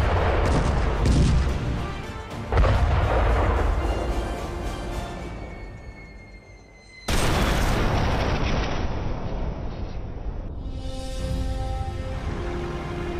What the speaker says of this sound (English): The Bhishma can rapid fire 7 rounds a minute.